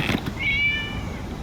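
A cat in Genshin Impact lets out a single short, clear meow, close and on its own with no talk over it.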